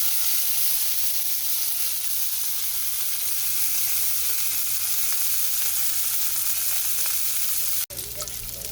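Salmon sears in a hot pan with a loud, dense, continuous sizzle close by, cutting out briefly just before the end.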